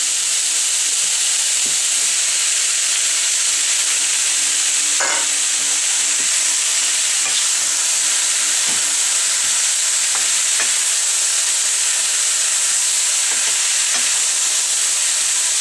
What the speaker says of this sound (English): we'll stir fry just for 30 or 40 seconds now